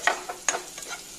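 Onion and garlic sautéing in butter in a pan for white sauce pasta, heard as soft spoon-stirring scrapes over a faint, quiet sizzle, with a few brief clinks close by.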